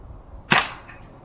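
A single sharp crack rings out close by as an Umarex UX 357 CO2 double-action revolver fires an anti-rust BB in single action, followed by a brief fading ring.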